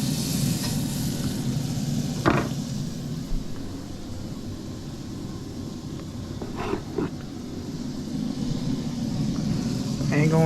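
Fish blackening in butter in a very hot skillet: a steady, fairly loud sizzle and crackle with a few clinks of stirring, while a person talks over it.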